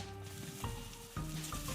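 Garlic, black cumin, shrimp and onion frying in oil in a wok, a soft steady sizzle with occasional stirring knocks and scrapes, faint and without talk.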